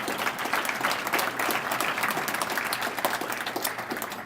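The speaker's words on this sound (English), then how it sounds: "we should give them a round of applause." Sustained audience applause at a community event, dense steady clapping from a crowd filling the whole stretch without pause, fairly loud and even throughout.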